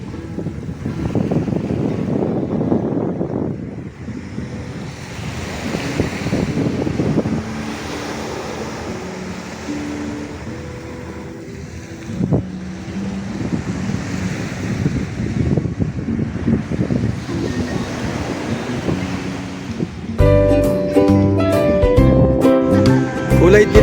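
Sea waves washing onto the beach at Iba, Zambales, a broad rushing surge that swells and fades under wind buffeting the microphone, with faint voices, before music comes in near the end.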